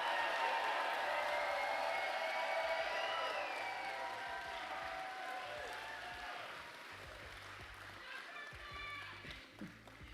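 Audience applause for military veterans at a public gathering, a broad, sustained patter of many hands that fades gradually over about ten seconds, with a few voices calling out over it.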